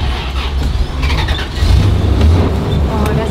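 A 1971 car's engine runs close by, a rough, loud rumble that swells and deepens partway through, with a faint high squeal and some background chatter.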